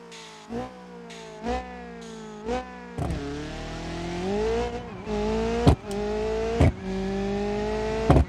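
A rally car in BeamNG.Drive races over the Baja hills, its engine revving up and down in long sweeps punctuated by sharp bumps and thuds from the rough terrain, loud and close throughout.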